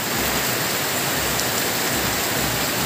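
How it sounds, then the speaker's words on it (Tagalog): Steady rain falls on a school vegetable garden, a dense, even hiss of drops that stays loud and constant throughout with no pauses. "Ngayon ay umuulan dito sa ating garden."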